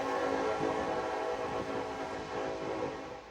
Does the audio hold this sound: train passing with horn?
yes